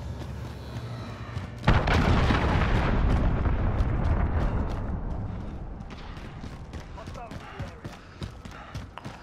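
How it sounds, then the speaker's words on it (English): A cruise missile strike in Call of Duty: Modern Warfare on the Piccadilly map lands as a sudden, loud, booming explosion, followed by a long rumbling roar that slowly fades under scattered distant thuds and crackles. "Allied cruise missile away"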